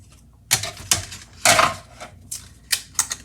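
A manual die-cutting machine presses a die through paper for a stamping craft, giving a series of sharp, close mechanical clunks and ratchety bursts in an irregular rhythm, with no talk.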